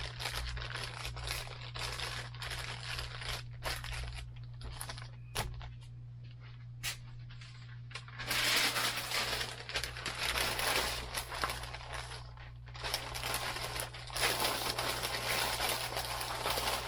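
Thin plastic bag crinkling and rustling in bursts while being stuffed into a small flat cardboard shipping box, close and continuous with a steady low hum underneath.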